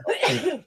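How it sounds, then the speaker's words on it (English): A single short human sneeze, close and fairly loud, with a sharp burst and a brief voiced tail. "Bless you. Who sneezed?"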